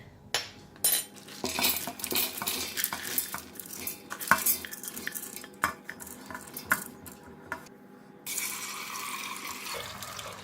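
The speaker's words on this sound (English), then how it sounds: "So I'm going to give it a rinse and then we can go and boil it." Soaked red beans are rinsed in a metal pot, with steady running water and repeated clattering of beans and utensils against the pot, close and fairly loud, and the tap flow getting louder near the end.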